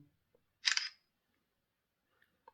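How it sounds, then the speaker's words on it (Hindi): A single crisp shutter click from the 50-megapixel rear camera of an Infinix Hot 40i phone as a picture is taken, sharp and close, in an otherwise quiet room. "तो एक पिक्चर में क्लिक कर लेता हूँ।"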